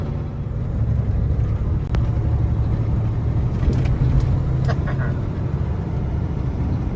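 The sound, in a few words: 2023 Peterbilt 567 logging truck driving over mountain pass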